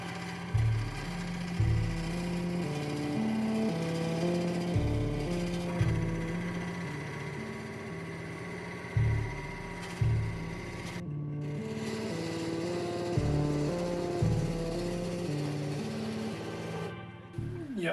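Wood lathe spinning a lightsaber prop as a chisel cuts into it, a continuous loud motor whine with repeated rhythmic scraping bursts from the tool, close by and with no talk.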